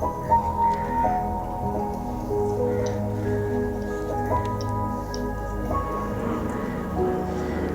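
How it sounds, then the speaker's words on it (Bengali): Fried donut dough, made with a generous amount of oil, mixed by hand in a bowl, giving soft, wet squishing and sticky squelches at an uneven pace, close up, with a faint voice in the background. "এই যে সবগুলো ভালোভাবে মিশিয়ে নিয়েছি আমি এর মধ্যে।"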